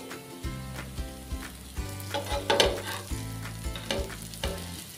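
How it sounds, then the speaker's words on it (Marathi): Vadi pieces fry in oil in a pan over a medium gas flame, giving a steady close sizzle with intermittent crackling bursts and soft stirring clatter throughout. "आणि आता मीडियम गॅसवर आपल्याला हे व्यवस्थित पुन्हा शिजवून घ्यायचं आहे."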